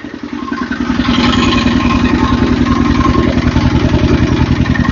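A diesel engine runs close by, loud and steady with a fast, even thumping beat that builds slightly in the first second and then holds; no voices are heard.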